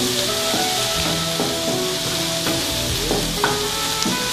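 Chopped white onion cooks in butter, a loud, close, continuous sizzle with faint clinks and stirring scrapes scattered through it, no voices.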